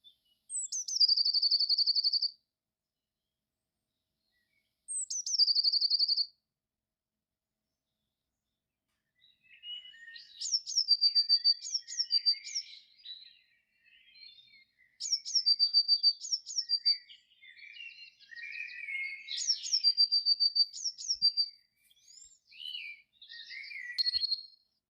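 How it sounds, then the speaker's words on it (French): Garden birds at a bird bath, blue tits among them, give short clear tweeting phrases, two isolated calls at first, then busier repeated chirping bursts, fairly close and alone. "Voici que les premières mésanges bleues, avec leur calotte bleu ciel si caractéristique,"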